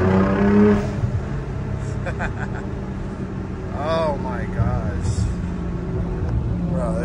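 A 700 whp turbocharged Infiniti G37 with a boosted VQ engine drives along, a low steady engine drone with wind rush and brief revving swells, while people talk over it.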